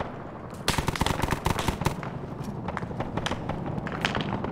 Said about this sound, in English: They're firing PKM rounds at this group here.